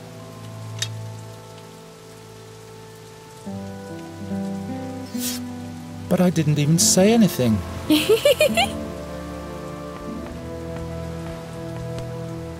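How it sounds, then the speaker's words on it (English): Rain in the adventure video game The Dark Eye: Chains of Satinav, a steady, soft patter running through the whole scene beneath game music, with voices talking over it. "It must rain here quite frequently"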